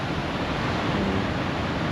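Surf crashing along the beachfront at Costa Adeje, Tenerife, during unusually high waves; a steady broadband roar of breaking water fills the whole stretch, continuous and fairly loud with no voices.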